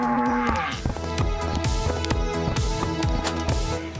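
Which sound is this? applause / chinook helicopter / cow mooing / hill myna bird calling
cow mooing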